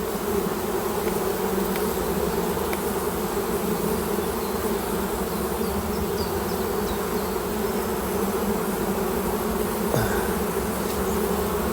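A dense, continuous buzz of many honey bees around hive frames close by, steady and loud throughout, with no talking.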